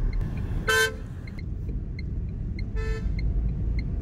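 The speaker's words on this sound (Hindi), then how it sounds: "तो हॉर्न किसको दे रहा है भाई?" Two short car horn honks, a second apart, over steady traffic and road noise while driving in thick fog.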